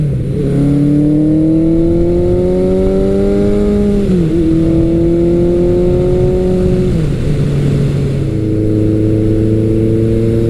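A Suzuki GS1100L motorcycle engine hums close by while cruising, its pitch climbing gently, then dropping with each gear shift, three times over the steady rumble.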